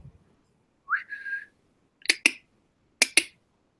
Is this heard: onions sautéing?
no